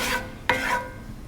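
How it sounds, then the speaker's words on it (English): A flour roux is stirred in a pot, a spoon scraping the bottom in two quick rasping strokes over a light background sizzle; no voices. "keep stirring, keep stirring, keep stirring"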